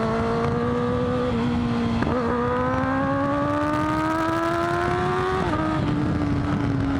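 A Kawasaki ZX-10R motorcycle pulls hard in first gear, its engine note rising loud and close in one long climb with a brief dip near two seconds and a drop near five and a half seconds, heard without any talk.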